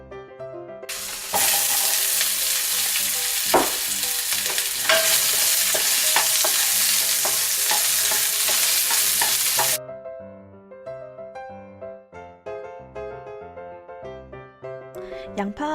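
Garlic and onion sautéing in oil in a preheated pan, a loud bright sizzle with stirring clicks that cuts off abruptly, leaving quieter background music.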